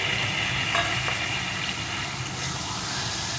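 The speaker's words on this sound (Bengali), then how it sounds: "এখন বেশ কিছুক্ষণ নাড়িয়ে বড়া লাউ একসাথে রান্না করে নেব" Pea-lentil fritters and bottle gourd simmering together in a pan, a steady loud sizzle with a few faint scrapes of stirring, close and without talk.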